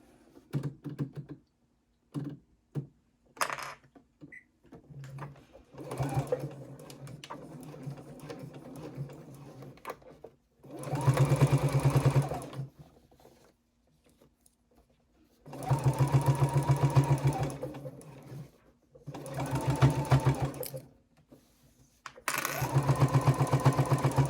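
A sewing machine sews the bottom seam of a triangle pouch in several separate bursts of rapid stitching, broken by quiet pauses and small handling clicks, heard close and alone.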